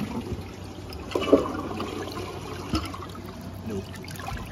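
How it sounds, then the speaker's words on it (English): A toilet flushing, probably a Champion 4 model, with a soft rushing and trickling of water throughout, a couple of brief gurgling bumps, fairly quiet and steady with no voices. "let's give it a flush"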